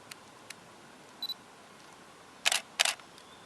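A Canon DSLR shutter firing in low-speed continuous burst mode, a pair of close, crisp mechanical clacks spaced apart, preceded by faint ticks and a short beep over a quiet room hiss.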